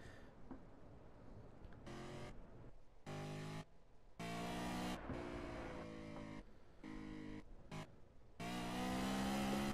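A BMW GT4 race car in the Project Cars racing game revs hard through repeated gear changes, its engine note rising and cutting off in a series of loud, close bursts.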